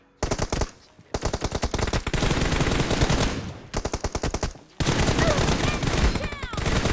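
Automatic gunfire in an online multiplayer shooter game, several long rapid bursts with brief pauses between them, loud and close, while players talk over the shooting.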